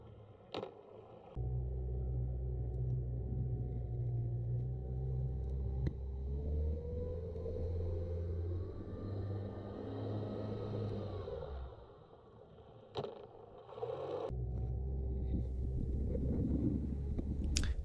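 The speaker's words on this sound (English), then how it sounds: "You can hear the motor rev up there" A boat motor drones steadily and fairly loud while pulling against an anchor on test, with a rising revving tone midway, a short drop in level, then a return to a strong rumble.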